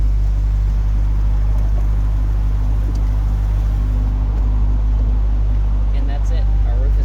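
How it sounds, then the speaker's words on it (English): A 2020 Chevrolet C8 Corvette convertible gives off a steady, deep exhaust rumble close by as its roof lowers, with faint mechanical whirring, while a person talks throughout. "You can hear our exhaust coming through, and the roof just collapses away just like that."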